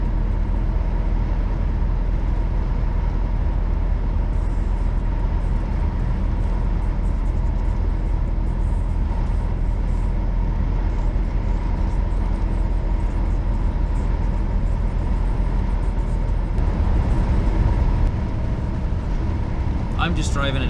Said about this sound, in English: I'm just driving at 80 kilometers an hour